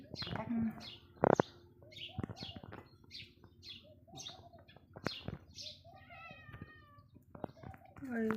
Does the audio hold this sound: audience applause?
no